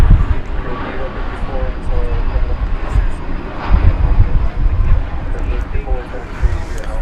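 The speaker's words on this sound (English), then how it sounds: "Airbus A321neo going to Phoenix, Arizona." An Airbus A321neo airliner on a runway at DFW airport gives a broad, steady engine roar with wind buffeting the microphone, while a voice talks over it.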